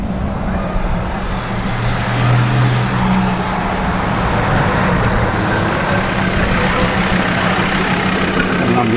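A modified Mazda BT50 ute rumbles up the street and into a driveway, its deep engine drone steady and loud throughout with a broad roaring exhaust note.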